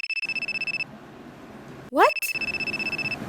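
Telephone ringing with a steady repeating electronic trill, loud and close, cutting off, then resuming after a brief spoken word and a clatter.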